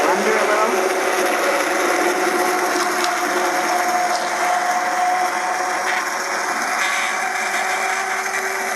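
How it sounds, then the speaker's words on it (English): Immersion blender whirs steadily through a pot of cooked peach butter made with the skins left on, a continuous grinding motor hum running close and loud throughout. "I am just going to try immersion blender a little."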